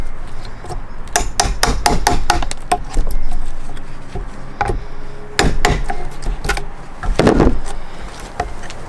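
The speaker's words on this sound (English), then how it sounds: "Chiseling the wood, making it flat." A hammer strikes a chisel to flatten wood on an archery target stand post: sharp, close, irregular blows in quick bursts, some clustered rapidly, others spaced apart, with faint scraping between strikes.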